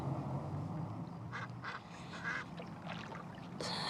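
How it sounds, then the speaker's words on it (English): A duck quacks a few times in short nasal bursts, fairly faint against a steady background hiss of outdoor ambience, with a brighter call right at the end. "I hear that duck quack"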